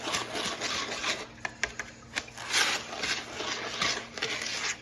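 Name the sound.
whisking cornstarch and salt together in a bowl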